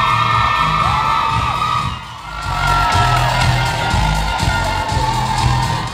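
A theater crowd at a Miss Curaçao Holland pageant cheers loudly and steadily, with shouts and whoops layered over one another, close and sustained, with only a short dip partway through.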